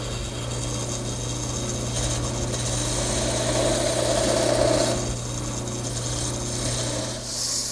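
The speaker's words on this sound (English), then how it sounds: "Now using my skew chisel, I'll make that little V-groove." Skew chisel cutting a V-groove in a chair leg spinning on a wood lathe: a steady motor hum with a continuous scraping, rasping cut that swells briefly midway, close and without talk.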